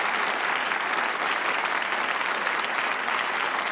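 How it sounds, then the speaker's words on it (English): A studio audience on the British darts game show Bullseye breaks into a round of applause, a dense, steady wash of clapping that holds at full strength throughout with no voices over it. "Give him a round of applause."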